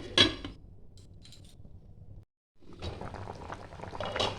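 Elephant foot yam boils in a covered pot, giving a faint, steady bubbling and hiss with a sharp clatter at the start, a brief silence partway through, and the simmer returning.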